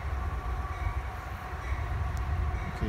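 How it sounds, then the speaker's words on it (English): A CSX freight train approaches at night in Opa-locka, a steady low rumble with rail clatter and a faint horn-like tone, fairly close and sustained. "so this train is coming pretty quick"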